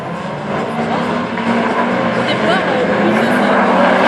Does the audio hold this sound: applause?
no